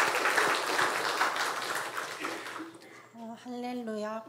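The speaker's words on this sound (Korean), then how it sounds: "먼저 한번 박수 한번 해주시죠." A church congregation claps in a dense burst that fades away after a couple of seconds, followed by a voice speaking alone in the quiet room.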